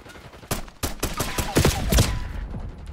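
Bursts of PM Makarov gunfire in Call of Duty: Black Ops 6, a run of sharp, close shots in quick irregular succession, some clustered tightly together, over quieter game background.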